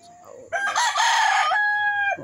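A rooster crows once, loud and close, a long drawn-out call with a rising start and a sustained end.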